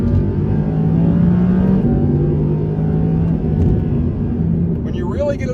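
An Audi R8 naturally aspirated supercar engine winds out under acceleration on a bumpy road, a loud sustained drone rising slowly in pitch, heard from inside the car.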